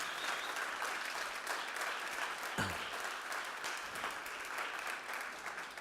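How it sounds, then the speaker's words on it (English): Conference crowd at a tech startup event's opening night applauding the volunteer team, sustained many-handed clapping at moderate distance with a brief thump partway through and no talking. "Big applause for our team of volunteers, the Startup Grind team"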